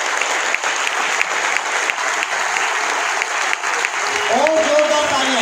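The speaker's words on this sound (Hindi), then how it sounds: "एक बार जोरदार तालियां बजा के पड़ोसी को बता दीजिए।" A large crowd at an RCM business seminar claps loudly and continuously for several seconds, with a voice rising over the applause toward the end.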